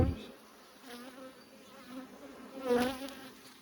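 Bees hum steadily around an open hive, a continuous insect drone with a few individual bees passing close and growing louder for a moment near the end.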